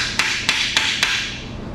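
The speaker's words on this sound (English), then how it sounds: "Use that, hammer it over because it's smaller to make new grooves." Four sharp metallic hammer strikes, evenly spaced and close, drive a 3/8 socket down over a bolt to cut new grooves during a 426 Hemi engine install on a Dodge Challenger.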